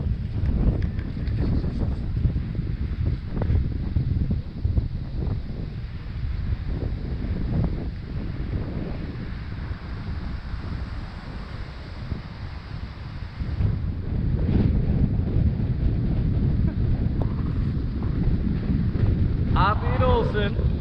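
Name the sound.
strong wind outdoors at a lake park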